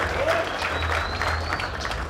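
Live audience applause at an A3C 2012 hip-hop stage show for a DJ, a steady patter of clapping from a crowd with a low hum beneath it.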